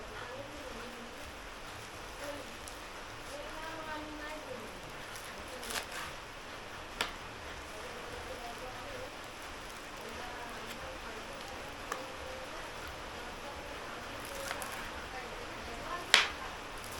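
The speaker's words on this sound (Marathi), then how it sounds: "आता पुन्हा तुम्हाला आवाज येत असेल पावसाचा" Rain falls steadily in a soft, continuous hiss at low volume, with a few scattered clicks and one sharp tap near the end.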